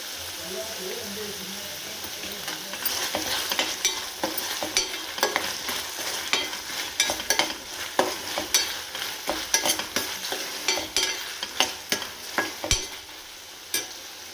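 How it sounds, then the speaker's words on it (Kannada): Capsicum and gobi manchurian fry in a pan and are stirred, with soft sizzling under a run of quick, rhythmic scraping stir strokes that grow sharper and more frequent toward the end. "ಕ್ಯಾಪ್ಸಿಕಮ್ ಎಲ್ಲ ಫ್ರೈ ಆದರೆ ಚೆನ್ನಾಗಿರುತ್ತೆ"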